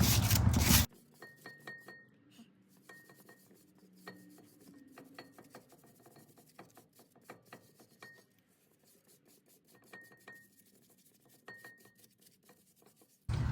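Ford Expedition front brake parts rubbed clean by hand during a pad and rotor replacement: quiet, irregular scraping and rasping strokes with occasional small metallic clinks, set against near silence.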